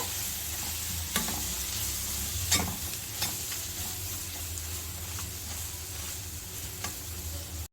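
Tomato with garam masala and cumin powder stir-fried in a pan for egg fried rice, a steady hiss of frying with occasional spatula scrapes and clicks, close and continuous with no talk.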